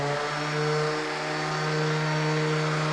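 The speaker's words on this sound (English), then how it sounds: "Now you go over with the orbital sander." Orbital sander running on a wooden furniture piece, a steady close whirring drone with a constant tone that holds without pause, no speech over it.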